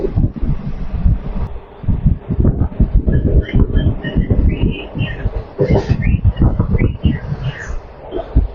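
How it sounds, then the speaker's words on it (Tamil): A train rumbles at Thrissur railway station in Kerala, with the clatter of rail wagons and wind buffeting the microphone close by. "நம்ம திருச்சூர் ரயில்வே ஸ்டேஷன் ரீச் பண்ணியிருக்கோம்"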